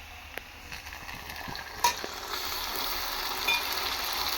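Pastes of cumin, chili, ginger and garlic hit onions already frying in hot oil, giving a steady close-up sizzle with a brief louder crackle partway through. No one speaks.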